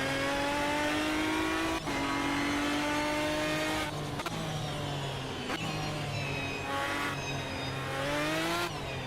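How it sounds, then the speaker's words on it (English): Race car engine in the sim racing game Automobilista 2, revving loudly with repeated upshifts as the pitch climbs and drops through gears, continuous and close with no talk over it. "The car sounds very loud to me."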